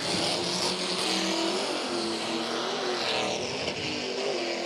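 A loud, steady engine roar of drift cars revving hard and accelerating down a track's front straight, close by, with rising and shifting engine pitch through the gear changes and no talking.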